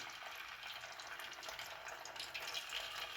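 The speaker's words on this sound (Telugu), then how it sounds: "చూసారా, ఇలా వేయించాలి. సిమ్లోనే వేయించాలి, హైలో పెట్టకూడదు." Punugulu, small fritters of leftover rice batter, fry gently in oil over low heat, giving a steady, even sizzle and bubbling hiss that stays constant and close throughout.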